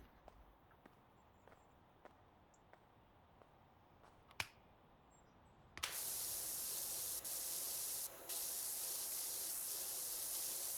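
A virtual pressure washer in the video game PowerWash Simulator 2 coating surfaces in soap: after a few faint clicks and taps, a loud, steady broadband hiss of spray starts suddenly and runs on continuously, briefly dipping once.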